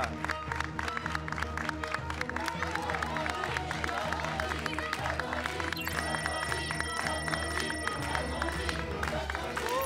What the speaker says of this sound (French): Applaudissez comme il se doit, s'il vous plaît.